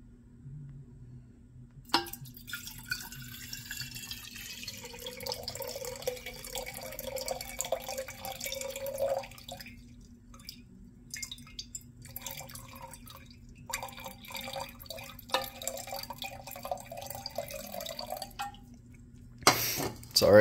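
Water poured into a container and weighed out for making agar plates, a thin trickling stream that runs for long stretches with pauses, close up, with a few clicks and handling noises.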